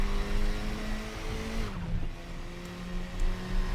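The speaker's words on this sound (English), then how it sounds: "Just the drop in revs from second to third" A KTM X-Bow race car in the R3E racing game, its engine note dropping as it shifts from second to third gear, then droning steadily at high revs, loud and close with a faint tire scrub.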